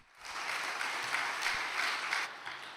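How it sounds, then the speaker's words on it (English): An audience at a Cheonshim Won gathering breaks into sustained applause, a dense wash of clapping that starts quickly and stays steady and full for a few seconds without speech. "give President Lee Gi-seong another great round of applause for that main message"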